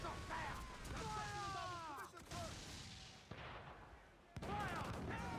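Ship cannons fire in the Assassin's Creed IV: Black Flag video game, with a few sharp booms standing out over a noisy battle bed while voices shout orders through most of it.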